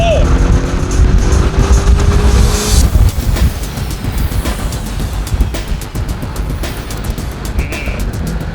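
A Porsche 718 Boxster GTS with a PDK gearbox, set to Sport Plus, accelerates hard in a loud, close engine roar that shifts pitch with quick gear changes, while people talk over it.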